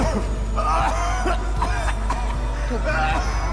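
Repeated coughing from several characters in Assassin's Creed, short hacking bursts over a constant low hum, with some chuckling mixed in.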